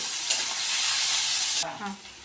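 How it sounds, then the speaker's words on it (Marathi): Finely chopped onion hits hot oil in a pan for a home-cooked ridge gourd dish, giving a loud, steady hiss that cuts off abruptly near the end, leaving a quieter clatter as it is stirred. "त्याच्यामध्ये पहिल्यांदा आपल्याला ना बारीक काटलेला कांदा टाकून घ्यायचा त्याच्यामध्ये तेल टाकून घ्यायचं"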